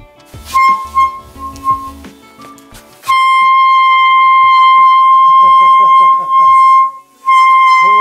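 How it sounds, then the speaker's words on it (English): An air horn driven by boiling liquid nitrogen blares a loud, sustained high tone, first in short wavering bursts, then in a long continuous blast that briefly cuts out and resumes, close and piercing. "I can put the air horn back on the top."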